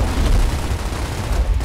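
Dense, loud gunfire pounds a wall in the video game Gears of War, a continuous burst of booming shots with no pause and no talking.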